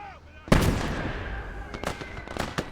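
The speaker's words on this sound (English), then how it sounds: "I can hear something burning. It's cooking up." Tank ammunition burning and cooking off in a World War II battle video game: a sharp loud burst followed by a roaring crackle and several scattered pops, near and fading, with faint voices at the start.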